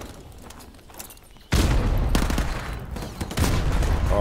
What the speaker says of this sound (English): Throw a few frags there.